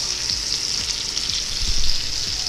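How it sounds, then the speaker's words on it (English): A bone-in cowboy ribeye steak sears in a hot pan with butter, giving a steady close sizzle and crackle with a few louder spits toward the end. "Look at the steak continuing to sear."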